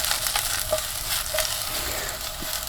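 Food sautés in a hot skillet with butter, giving a steady, close sizzle with small pops and faint stirring clicks throughout and no talking.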